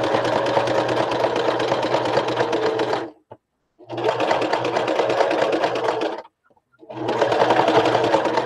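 A sewing machine stitches silk fabric in three sustained runs of steady, rapid mechanical whirring, with short silent stops between them, close and fairly loud.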